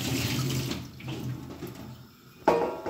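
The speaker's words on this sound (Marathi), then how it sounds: "असं गाळून घ्यायचं आहे तर थंड पाण्यामधून" Cold tap water runs over soaked sago pearls in a strainer, a continuous splashing flow with a brief louder gush near the end.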